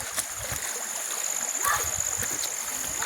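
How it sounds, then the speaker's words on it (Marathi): Water spills over a full check dam and runs in a stream through a deepened channel, a steady rushing wash with small splashes, heard close, with some speech faintly underneath. "पूर्णपणे भरलेला आहे बांध आणि वरून पाणी चाललं आहे इथे देखील चांगला प्रवाह आहे पाण्याला"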